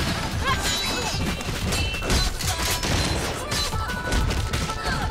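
Gauntlet guns firing in a RWBY trailer, a dense barrage of punchy blasts and crashes mixed with energetic music and action effects.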